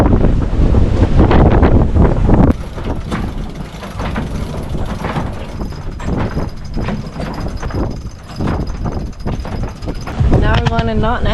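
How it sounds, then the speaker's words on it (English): Strong wind blowing across a sailboat at sea, a loud, continuous rushing roar buffeting the microphone throughout, with a voice talking over it. "The wind finally picked up."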